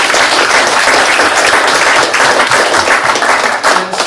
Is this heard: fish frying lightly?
no